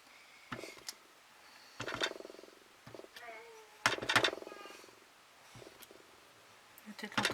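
A small cat purrs softly and makes low vocal sounds in a quiet room, faint and intermittent, with a person talking quietly between the sounds.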